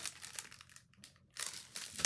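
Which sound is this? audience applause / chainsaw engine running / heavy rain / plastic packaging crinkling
plastic packaging crinkling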